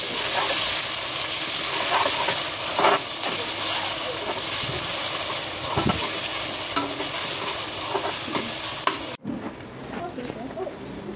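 Masala spices sizzle and fry in a pan while chicken rice is cooked, with a constant close hiss broken by stirring and scraping, and a brief sharp knock near the end.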